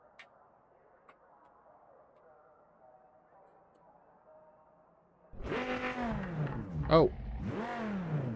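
A car engine in the Project Motor Racing game fires up suddenly after a quiet stretch, settling into a loud, rev-swept idle with one sharp blip, while a voice briefly exclaims.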